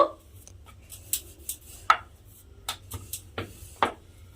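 Pea kachori dough rolled out with a little oil on a board at home, heard as soft, scattered taps and rubs spaced irregularly, close and fairly quiet with no voice.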